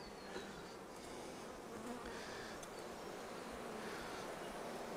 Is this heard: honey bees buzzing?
yes